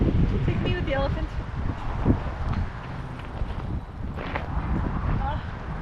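Gusty outdoor wind at a company picnic buffets the microphone with a continuous low rumble, while people talk nearby throughout.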